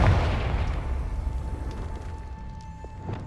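A Confringo spell blast in Hogwarts Legacy, a single booming explosion at the start that decays into a long rumbling tail with faint game tones underneath.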